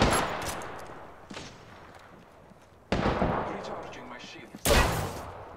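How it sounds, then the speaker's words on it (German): Bursts of rapid gunfire in Apex Legends erupt in three loud volleys, separated by quieter stretches with faint background noise. "Die haben nur so herumgeschossen."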